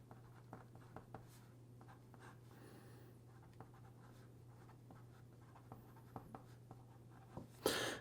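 A Visconti Homo Sapiens fountain pen with a medium 18 karat gold nib writes on paper in turquoise ink. Faint, soft scratching strokes with small irregular ticks sit over a quiet room hum.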